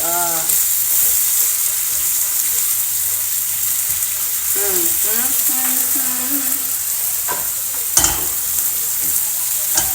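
Egg and vegetables frying in a pan for a pork and veggie stir fry, a loud steady sizzle with scraping stirs and a clack of a utensil near the end.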